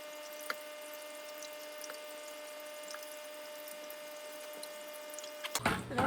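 Water drains from a fish tank in a quiet, steady trickle with a continuous hum and occasional faint drips, ending in a burst of louder splashing and handling noise.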